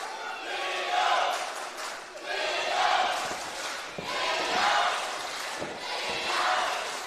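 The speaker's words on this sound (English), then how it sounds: "Crowd very strongly behind Leo Tempest" A crowd at a live wrestling match cheers and chants in rhythmic surging waves, loud and roomy, rising and falling several times across the clip.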